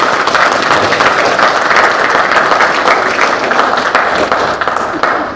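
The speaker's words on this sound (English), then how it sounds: "I want to give her a round of applause" Loud, sustained applause from a room full of people at a membership meeting, steady and dense throughout, tapering slightly at the end.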